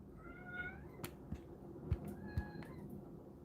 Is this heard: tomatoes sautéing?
no